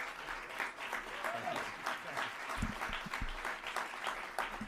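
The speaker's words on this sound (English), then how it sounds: "Let's stand and give him a rousing round of applause" An audience claps steadily for a city mayor at a civic kickoff celebration in Louisville, a dense sustained round of applause throughout with a few heavier hits, no voices over it.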